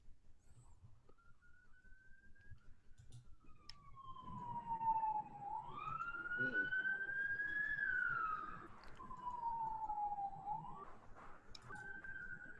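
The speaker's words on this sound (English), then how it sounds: "What's that police car going by?" A police car siren wails in the distance as it passes, rising and falling in long sweeping tones over faint low traffic rumble, growing slightly louder in the middle before fading back.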